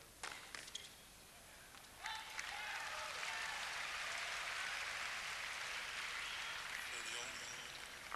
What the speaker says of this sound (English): Crowd getting excited because they see the ending.